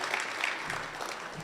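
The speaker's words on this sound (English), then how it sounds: "Let's give them a round of applause" Audience applause for university officials at a University of Texas medical school announcement in Tyler, a fairly quiet, even round of clapping from a gathered crowd.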